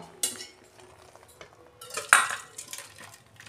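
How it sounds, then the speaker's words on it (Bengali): Boiled potatoes being tipped out of a cooking pot: sharp metallic clanks of the vessel and a short rushing pour, close up, with quieter rattles between. "দেখুন আলু সিদ্ধ হয়ে গেছে, আমি ঢেলে ফেলছি।"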